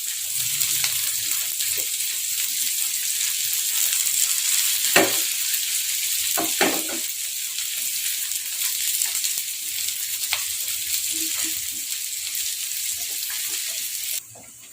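Chili frying in a pan sizzles loudly and steadily while being stirred, with occasional scraping clicks of the utensil against the pan.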